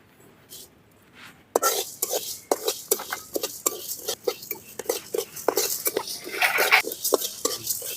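Cumin and coriander seeds dry-roasting in a pan for mudakkathan keerai rasam, with a utensil scraping and tapping against the pan in quick, uneven strokes and a faint crackle throughout, close and fairly loud after a quiet start.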